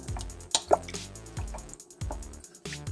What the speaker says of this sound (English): give the vegetables a nice stir in there and kind of stir up your onion soup mix a bit